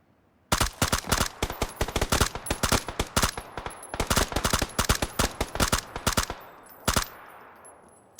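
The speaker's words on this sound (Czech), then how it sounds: "Střílejí po mně." Rapid gunfire in a first-person shooter game, dense bursts of sharp automatic shots in quick succession for several seconds, loud and close, ending with a final lone shot.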